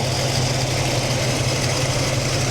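A 1969 Mustang Fastback V8 running with a smoky, fuel-dumping carburetor, a steady loud idle with a dense low rumble and even throb, close by and alone without talking.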